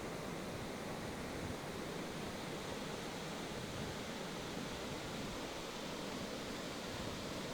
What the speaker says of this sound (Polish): Tutaj już widzicie jak spływa woda z wodospadu, wielka siklawa.